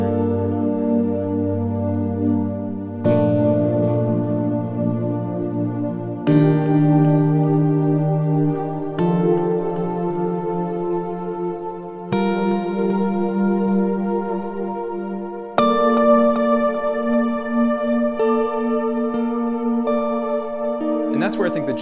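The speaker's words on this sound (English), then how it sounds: "if I take that pad and then I start to bleed in some of the guitar sound that I have as well" A soft synth pad blends with a Jamstik MIDI guitar, playing a slow progression of sustained chords that change every few seconds, with no voices.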